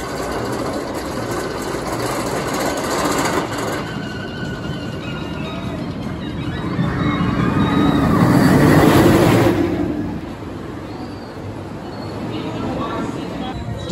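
Riding the Twisted Timbers roller coaster at Kings Dominion: a continuous rattling rumble of the cars on the track swells louder midway, then eases, with voices mixed in throughout.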